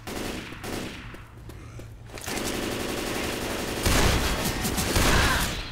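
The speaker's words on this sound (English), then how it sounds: "Why in the hell y'all keep shooting me?" Sustained bursts of rapid automatic gunfire in the zombie shooter Left 4 Dead 2 rattle on continuously and loudly, building denser toward the end with no talk over them.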